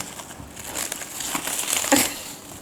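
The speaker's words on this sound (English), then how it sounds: "you help me unwrap it" Wrapping paper crinkles and rustles close by as a gift is unwrapped on stage, rising into a louder burst of crumpling near the end with no talk.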